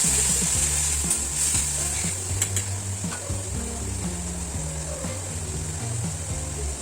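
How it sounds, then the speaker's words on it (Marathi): Onion, chilli, red chilli powder and turmeric sizzle steadily in a hot wok, a continuous crackling hiss with occasional light stirring clinks, no voices. "कढईत कांदा मिरची लाल तिखट हळद एवढं घातलं आहे"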